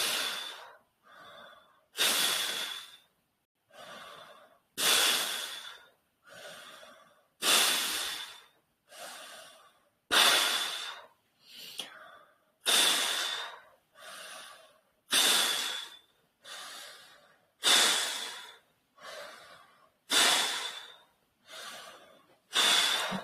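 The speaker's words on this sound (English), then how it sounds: "Keep breathing through the mouth and through your cheeks" Forceful breathing through the mouth during a breathing exercise, a long run of sharp, evenly paced breaths with short silent gaps between them, close and loud with no talking.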